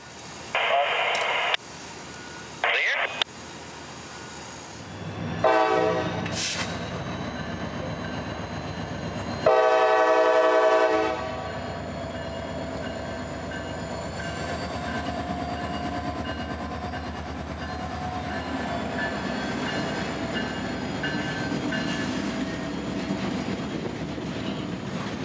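A CSX freight train creeps into a rail yard with a long, loud horn blast midway, followed by a steady rumble of wagons rolling past; short bursts of other sounds come earlier.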